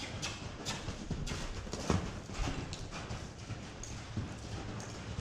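Horse cantering in a circle on a short lunge line, its hoofbeats thudding in a steady three-beat rhythm on the ground, fairly close and continuous with no talking over them.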